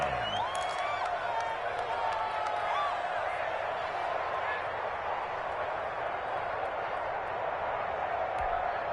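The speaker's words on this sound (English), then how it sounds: "One of the bigger plays in the game thus far, and the crowd getting into it." Stadium crowd cheering during a Madden 21 football game between the Chiefs and Chargers: a steady, dense roar of many voices and whoops that holds at an even level throughout.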